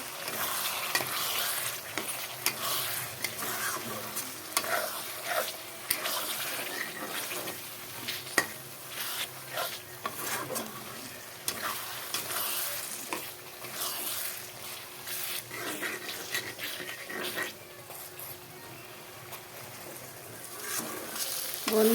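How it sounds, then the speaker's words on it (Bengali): Fried potatoes tossed into spice masala and stirred in a pan, a continuous crackling sizzle with frequent scraping stirs throughout. "এখন মশলার সাথে ভালো করে কষিয়ে নেবো আলুগুলোকে"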